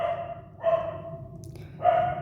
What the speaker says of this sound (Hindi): रात ज़्यादा हो चुका है इसलिए कुत्ता भौंक रहा है।